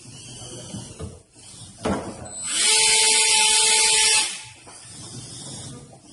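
A brushless motor fan on a flame-extinguishing robot spins up with a loud, steady high-pitched whine for about a second and a half, then cuts off, between quieter mechanical rattles and background noise.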